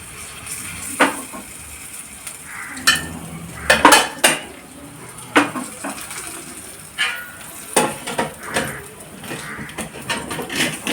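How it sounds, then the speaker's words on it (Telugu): Tempering spices for majjiga pulusu, a buttermilk curry, fry in a pan amid repeated metallic clinks and scrapes of a utensil against cookware, with a soft sizzle underneath and no talk. "ఇప్పుడు పోపు వేగుతాం చూడండి"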